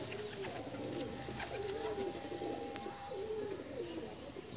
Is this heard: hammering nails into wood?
no